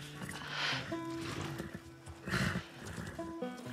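An albino horse neighs in The Last of Us Part II, two loud whinnying calls rising and falling close by, with hoof shuffling and a low voice between them.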